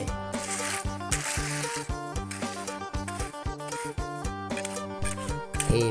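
A steel trowel repeatedly scrapes and rubs cement mortar into concrete block stair steps, a steady rhythmic grinding and slapping close by, with no talking.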